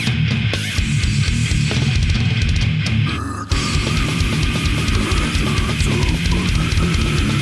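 Loud, dense extreme metal, with pounding low-end drums and guitars driving continuously and a brief break near the middle before the wall of sound resumes; no talking.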